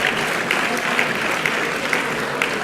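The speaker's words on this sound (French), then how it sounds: "Et vous pouvez les applaudir, champions d'Aquitaine." Sustained applause from an audience at an Aquitaine sports champions' awards evening, steady dense clapping throughout with no voices standing out.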